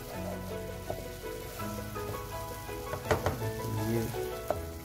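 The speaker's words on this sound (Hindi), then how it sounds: "इसको लगभग हम 5 मिनट तक ऐसे ही भूनेंगे।" Masala sizzling and frying steadily in a pan for restaurant-style paneer butter masala, with a few soft stirring clicks over a continuous crackle.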